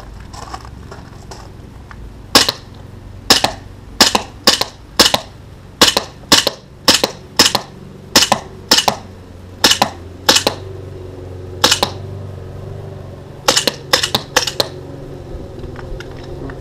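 Blackwater BW 1911 R2 gas airsoft pistol firing 0.25 g BBs at a target 20 metres away, about twenty sharp, snappy shots in uneven bursts, close and loud over a faint low hum.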